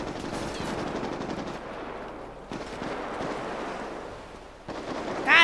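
Gunfire exchange in a complex: sustained, rattling automatic and rapid shots run almost without pause, loud yet slightly distant, with short breaks before the shooting resumes.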